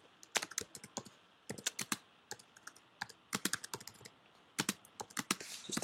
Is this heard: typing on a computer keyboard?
yes